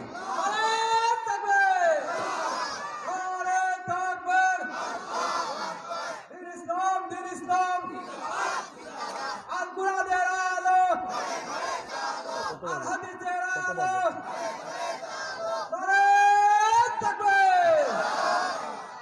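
At a waz mahfil, an Islamic sermon gathering, a large crowd shouts Allahu Akbar in answer to a takbir call, loud unified chanted bursts repeating about every few seconds, with a lead voice between them.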